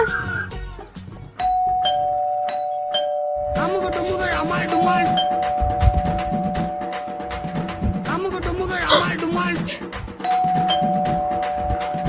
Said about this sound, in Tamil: ரொம்ப நேரமா காலிங் பெல் அடிக்குது பாரு